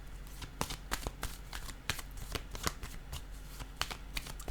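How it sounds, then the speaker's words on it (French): Tarot cards being handled and shuffled close by on a table, a rapid series of crisp flicking and riffling slaps in an uneven rhythm, quiet and continuous with no talking. "Je vais déposer une autre carte ici."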